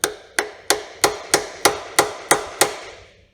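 Nine evenly spaced hammer taps seating a power feed unit onto a milling machine knee, sharp metallic knocks roughly every third of a second with brief ringing decays, close and alone with no talking.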